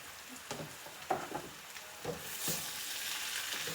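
Home fries and vegetables sizzle in a pan, a soft steady frying hiss with a few scattered scraping stir strokes, fairly quiet and close, the sizzle swelling slightly toward the end.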